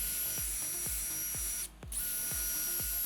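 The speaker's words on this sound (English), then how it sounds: "So as you use our wire brush on the drill just to bust off the rust" Wire brush spinning on a power drill to strip rust from Honda CB750K motorcycle end cans, a steady high whir with repeated rhythmic knocks as the brush bites, briefly cutting out near the middle before resuming.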